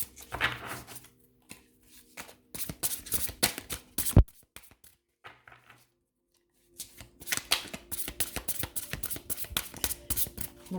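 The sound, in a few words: tarot cards tapped on a table to realign them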